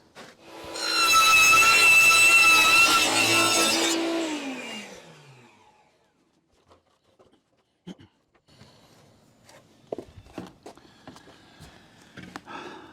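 A saw rips a board to width: a loud, sustained whining cut for about four seconds that winds down, followed by light knocks and handling of the wood.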